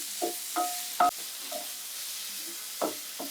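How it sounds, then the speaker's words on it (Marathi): Carrot and capsicum for chicken fried rice are stirred in a hot pan with a few scraping, clinking strokes against a soft steady sizzle, close and moderately quiet. "बाकीच्याच गोष्टी मी ढवळून घेत आहे"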